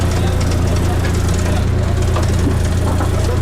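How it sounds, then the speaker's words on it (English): A boat engine runs steadily and loudly throughout on an Amazon river tour from Manaus, a continuous low rumble with a constant roar on top, and talk faintly mixed in. "The engine's running."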